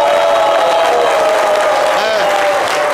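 A studio crowd on a French midday show claps and cheers for the guest, a loud dense wash of applause with whoops throughout.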